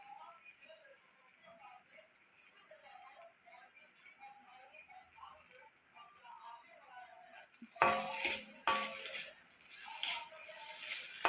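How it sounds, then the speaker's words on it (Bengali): Pointed gourd and peanut curry stirred in a pan, quiet at first with light scraping clicks, then sharper, louder scrapes and clatters of the spoon against the pan in the last few seconds. "এবার এটাকে ভালো করে নাড়ব"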